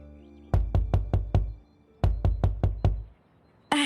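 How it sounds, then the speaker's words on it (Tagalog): Two loud, close bursts of rapid knocking on a bedroom door, each made of about five sharp raps, separated by a short pause, with a final thud at the end and no voices. "isang malakas na katok ang gumising sa aming dalawa sa master's bedroom"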